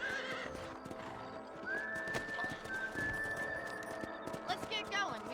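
Horse hooves clip-clop on the ground in the Red Dead Redemption video game, with a horse whinnying and a whistle tone over game ambience, close and moderately loud with some voice activity.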